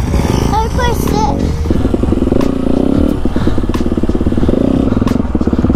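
A small motorcycle ridden slowly by a 3-year-old girl buzzes close by, its engine note rising and wavering as it putters along, with some clatter and a short voice near the start.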